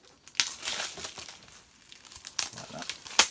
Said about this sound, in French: Je vais vous déballer pour vous montrer l'intérieur.